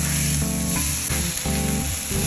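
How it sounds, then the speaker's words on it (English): Oklahoma onion burger patties sizzle loudly on a Blackstone griddle, a steady close hiss broken by scraping spatula strokes as they are flipped. "Now it's time to flip them over."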